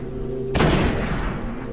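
Enemy weapon fire in the video game Destiny, a sudden burst of booming gunfire over a steady background hum, loud and close, fading into rumble.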